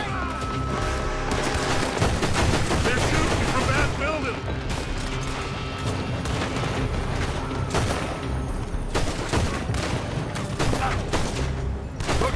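Dense, continuous gunfire and crashing impacts from a video game prison-break shootout, loud and busy with overlapping shots throughout.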